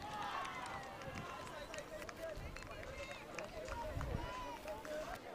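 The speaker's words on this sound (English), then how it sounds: "Nightcrawlers cheering on from the sideline" Ultimate frisbee teammates on the sideline of a sectionals match cheer and shout, distant voices rising over the open field alongside running footsteps and general crowd noise.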